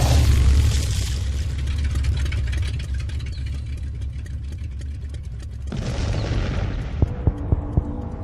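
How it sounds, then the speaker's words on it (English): In an animated samurai scene, a motorcycle engine rumbles and grinds down to a halt, then a distant explosion booms. A few sharp knocks follow, with no talk. "the subdued sound of the motorcycle engine grinding to a halt before a distant explosion"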